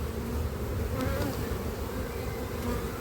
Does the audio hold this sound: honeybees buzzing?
yes